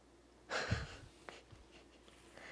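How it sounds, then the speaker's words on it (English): A dog snores loudly in the corner of a craft studio, one heavy rasping snort-like breath followed by quieter snuffles and breaths, heard alone without talking. "he just started snoring really loud in the corner of my studio"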